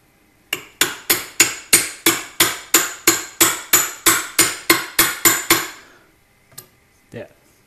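A hammer drives the rear seal into an M41 gearbox with about fifteen rapid, evenly timed metallic strikes that ring close and loud. A couple of soft knocks follow.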